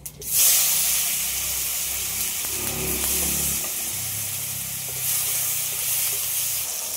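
Cumin seeds and bay leaves sizzle steadily in hot oil for a Bengali fish curry, a bright crackling hiss with a swell near the middle and another toward the end, close by and with no talk.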